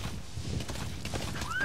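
Horse hooves clip-clop in Metal Gear Solid V: The Phantom Pain, a steady walking rhythm over a low game ambience, with a faint whinny-like tone near the end; no talking.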